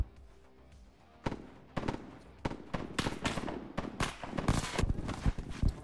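Gunfire in the military video game Arma 3: sharp shots crack in uneven bursts, starting sparse and building into rapid overlapping volleys, some near and some distant, with no voices.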